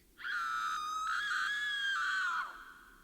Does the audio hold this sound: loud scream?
yes